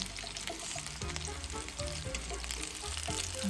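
Pierogi fry in butter, sizzling and crackling steadily in a hot pan, with a constant hiss and scattered pops, close by and without talking.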